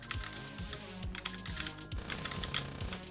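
Fast, clattering computer keyboard typing during a typing game, dense bursts of close keystrokes with no talk over them.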